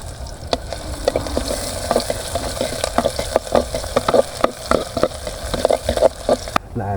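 Garlic, onion and ginger sautéing in hot cooking oil, a steady sizzle broken by frequent sharp scrapes and clacks of stirring close by, no talking.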